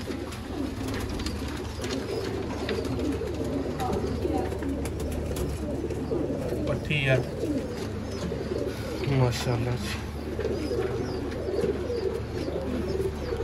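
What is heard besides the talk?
Sialkoti pigeons cooing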